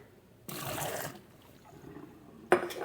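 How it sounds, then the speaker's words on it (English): Water tipped out of hot canning jars just lifted from a pressure canner: a brief splashing pour, a quieter trickling lull, then a sharp second splash near the end, close by. "But the water does need to be poured out of these"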